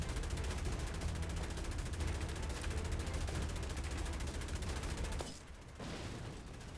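Rapid gunfire rattles in a dense, continuous burst during a shootout in Assassin's Creed Chronicles Russia, aimed at barrels, then breaks off abruptly near the end into a quieter lull before the game din resumes.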